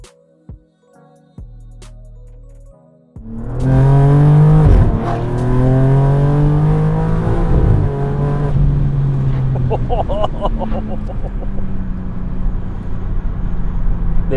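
Porsche 992 Carrera S with new downpipes starts up and revs loudly, the engine note sweeping up and down through several throttle blips before settling into a steady, rumbling idle.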